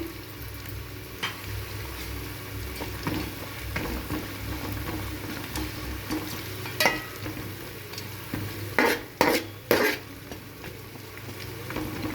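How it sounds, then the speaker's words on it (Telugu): Onions and green chillies frying in a pan for cashew biryani, with a constant close sizzle under the occasional scrape and clatter of a stirring spoon, and a few sharp knocks near the end. "తర్వాత ఆనియన్స్ వేస్తుందండి. తర్వాత పచ్చిమిర్చి వేస్తుందండి."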